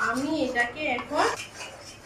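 A pan of prawn curry stirred with a utensil, giving a short run of metallic scraping and clinks against the pan under a person's voice.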